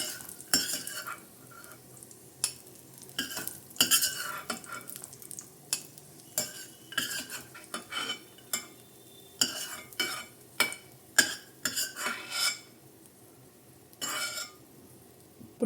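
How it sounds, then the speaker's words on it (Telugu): Sweet banana cutlets frying on low flame in a pan. A quiet sizzle sits under repeated spatula scrapes and light metallic clinks at an uneven pace. "లో ఫ్లేమ్ మీద ఫ్రై చేసుకుందాం"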